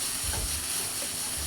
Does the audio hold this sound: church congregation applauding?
no